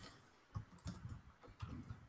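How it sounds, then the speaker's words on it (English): Computer keyboard typing, soft irregular clusters of key clicks and taps in a quiet room, faint and close, with no talk. "Typing is difficult."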